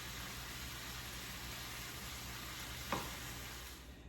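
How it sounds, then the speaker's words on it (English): Ground beef browning with onions in a pan makes a faint, steady hiss of frying, with one brief scrape near the end and no voices. "First, I am browning the ground beef with the onions."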